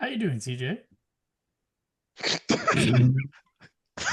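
A single sharp sneeze during a casual podcast conversation, heard after a man's short greeting, followed by a short pause, then more voices talking nearby.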